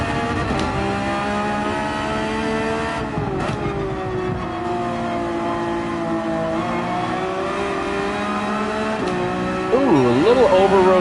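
A race car in Gran Turismo 7 at Watkins Glen, its engine note loud and continuous, pitch dipping and climbing through gear changes and accelerating out of a turn, with brief tire squeal near the end.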